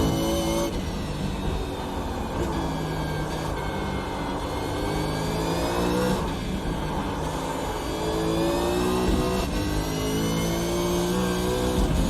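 A V8 Supercar engine revs hard in a racing game at Lime Rock Park, its pitch climbing and dropping through a series of gear shifts, loud and continuous with no talk.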